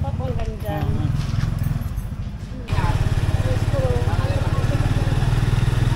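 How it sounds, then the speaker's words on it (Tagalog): A motorcycle engine runs in a parking area, a steady low rumble close by with a rhythmic pulsing throb that grows louder partway through, while people talk over it. "Ayun yung motor po."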